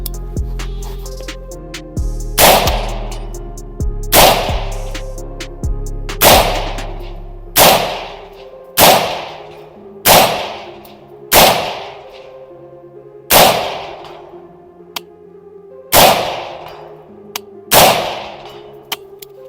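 Tactical rifle fired at a target through a 6X optic, about eleven sharp, loud gunshots in a steady rhythm roughly every one and a half seconds, each with a short ringing decay and no talking.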